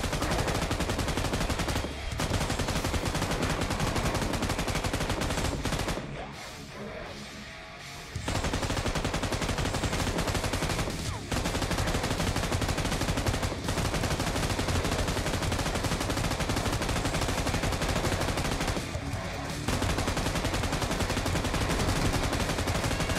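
Dense, loud gunfire from a zombie-mode shooter game pours out in near-continuous automatic bursts, with a brief lull partway through before the shooting resumes at full intensity.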